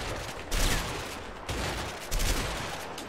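Gunfire bursts from the Army of Two video game come in three loud, sustained volleys of rapid shots that start one after another and run together with hardly a gap, without talk.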